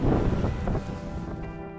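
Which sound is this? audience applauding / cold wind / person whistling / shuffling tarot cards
cold wind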